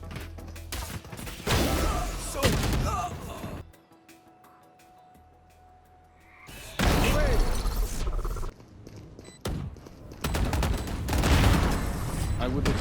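Player's gun in Valorant firing in long, dense bursts, loud and close, broken by a quiet pause mid-round, with a voice speaking over parts of the shooting.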